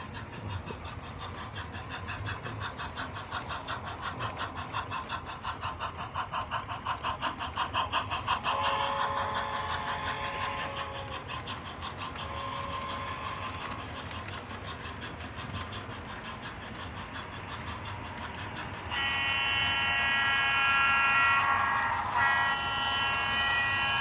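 Southern Pacific locomotives haul a passenger train past at a distance, giving a steady rumbling roll with engine drone and rhythmic wheel clatter, and a brighter tonal swell in the last few seconds.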